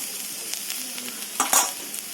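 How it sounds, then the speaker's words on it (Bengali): Potatoes and onion shoots fry in a pan, making a soft steady sizzle broken by a few sharp stirring scrapes and clinks near the end. "আলু পেঁয়াজগুলো দুটোকে খুব সুন্দর করে ভেজে নিতে হবে"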